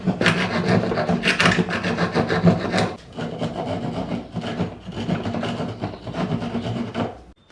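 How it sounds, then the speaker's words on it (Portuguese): A round rasp enlarging a hole in a wooden drawer, steady back-and-forth rasping strokes, close and fairly loud, with no talking. "Eu posso até passar uma grossa roliça agora aqui, uma grossa redonda, e depois lixar"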